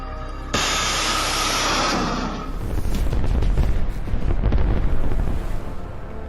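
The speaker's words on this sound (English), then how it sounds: "The cluster munition explodes" A cluster munition bursts in a war zone near an ammunition truck, giving a sharp onset followed by a sustained roaring rush and a string of rapid crackling pops, loud and distant-sounding with wind noise.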